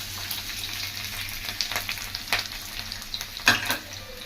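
Garlic and green chilli frying in hot oil in a kadai for gobi manchurian, a steady close sizzle with faint stirring scrapes and a few sharper pops.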